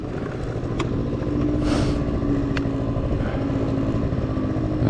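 A TGB snowmobile engine drones steadily and loudly up close on a snowy street, a constant mechanical buzz with a brief swell in the middle and no talking.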